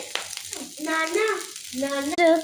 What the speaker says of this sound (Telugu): ఇడ్లీస్ని డీప్ ఫ్రై చేసుకోవాలి.